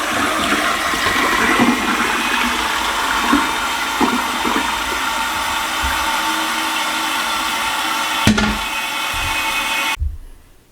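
A toilet flushes after a new flapper is fitted, a loud close rush of swirling water that holds steady for several seconds, then cuts off with a clunk as the tank drains and the flapper seats.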